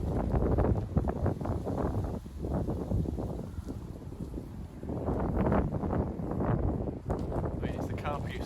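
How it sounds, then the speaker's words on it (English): Warm wind gusts steadily into the microphone on a mild May day at a carp fishing lake, a rough blustery rush that swells and dips under someone talking. "they've got a warm wind blowing into our faces, and it has been all day"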